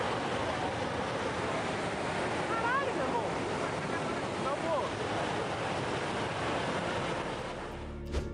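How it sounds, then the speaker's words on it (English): Emergency water discharge from a dam, a dense roaring rush of falling water that runs unbroken and loud from start to finish, with faint wind buffeting and brief high chirps over it. "officials in charge will sometimes authorize an emergency water discharge"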